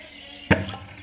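A single sudden splash and gurgle as a clay cooking pot is plunged into a bucket of water, followed by a short bubbling trail, close and moderately loud against a quiet background.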